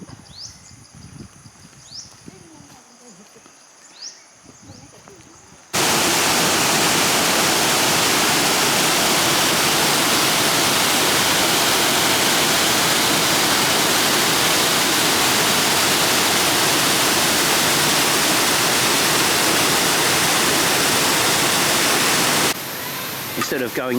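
Quiet outdoor ambience with faint bird calls gives way to the loud, steady rushing roar of a nearby waterfall that fills the rest.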